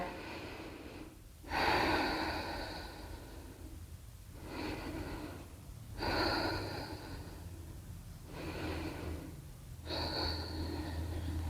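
Slow, deep breathing during a beginner hatha yoga session, with audible inhales and exhales alternating at a steady, unhurried pace, close and clear with no talking.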